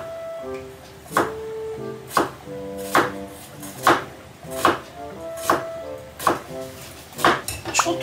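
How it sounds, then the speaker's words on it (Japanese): A knife thinly slices a quarter onion on a cutting board, about nine crisp, evenly spaced chops, close and distinct, over faint background music. "玉ねぎの4分の1薄切りして塩漬けしておくっていうことなんで、ちょっとやっておきます"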